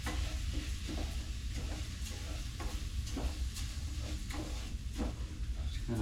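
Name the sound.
stirring rice browning in frying pan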